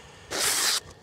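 Ruike F118 knife blade slicing along the grain of paper, a single brief rasping hiss lasting about half a second, close and fairly loud, then quiet with a faint scrape after.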